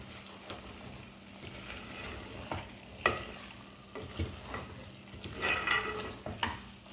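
Mutton and masala sizzle and stick in a pan as they are fried down, with repeated scraping stirs and occasional metal clinks over a soft continuous frying hiss, close and moderate in level.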